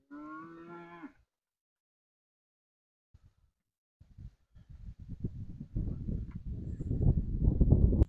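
Calves on a cattle farm give one loud, close moo, followed by a pause and then a growing stretch of rustling, shuffling noise.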